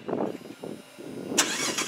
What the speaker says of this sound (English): Has a keyless remote, as well as a keyless start engine.